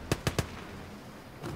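Three sharp, evenly spaced shots of MG42 machine gun fire in the Gates of Hell Ostfront war game, sounding at a distance, followed by quieter ambience and a faint fourth report near the end.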